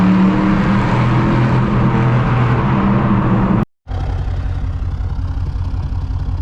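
A straight-piped Mercedes CLS500 exhaust roars loud and close as the car accelerates, a dense low engine drone that cuts out briefly before resuming at a steady, rumbling pitch.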